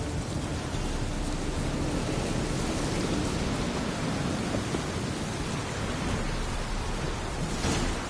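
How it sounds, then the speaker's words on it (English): A steady, dense roar of heavy rain fills a storm scene in a game, loud and constant throughout, with a faint swell near the end that could be distant thunder. "Storm, damn it."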